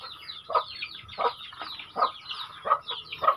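Native chickens cluck at feeding time in a rhythmic series of about five short, fairly close clucking bursts spaced roughly evenly, with a quiet background and no talking.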